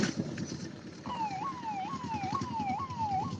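A warbling emergency-vehicle siren rises and falls in a steady repeating cycle at a highway toll plaza, fairly loud over a low rumble of traffic and engines, with no voices.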